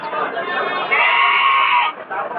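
Goats bleating at a goat market in Puthiyamputhur, a wavering nasal cry that swells and holds for a second or more, with market background noise around it.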